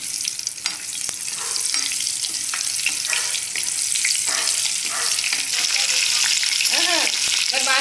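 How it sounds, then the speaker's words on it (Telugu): Chopped onions frying in hot oil while cooking a Telugu stuffed brinjal masala curry, giving a steady close sizzle with occasional stirring scrapes throughout. "ఇదే ఆయిల్లో ముందుగా కట్ చేసి పెట్టుకున్న ఆనియన్స్ని ఫ్రై చేసుకోవాలి"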